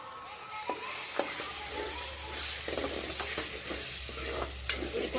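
Food frying in a pan, in a kitchen making fish curry and chicken curry, gives a close, steady sizzle with the soft scrape and patter of stirring throughout.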